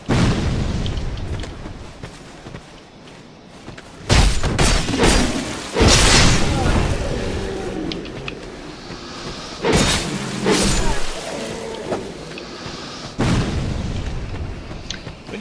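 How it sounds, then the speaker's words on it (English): Bombs thrown by an enemy exploding in Dark Souls II, several loud booming bursts at irregular intervals, each followed by a rumbling decay, with quieter game ambience between blasts. "Run through here so not to get bombed."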